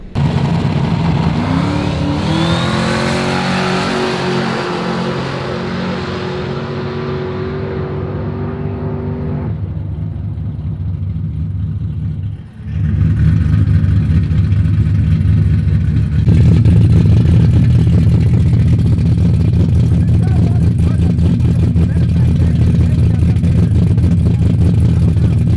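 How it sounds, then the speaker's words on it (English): The LS Nasty drag car does a small jack burnout at a no-prep test, its engine climbing into a loud revving roar that then holds as a constant, close, heavy drone with tire squeal. "Smaller jack burnout this time."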